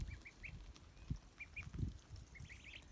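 Ducklings quacking outdoors on a mild day, a few short high peeping quacks scattered across a few seconds, faint and close, over soft rustling.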